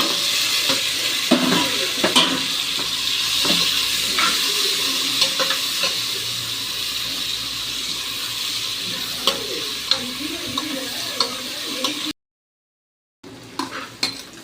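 Onion and chopped tomato sauté in an oil-filled pan for Chettinad chicken, with a steady close sizzle and repeated scrape-and-clink stirring strokes, no talking.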